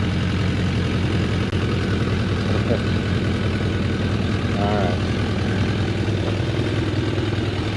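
Several motorcycles idle together at once, a steady low engine drone running throughout with someone speaking briefly over it.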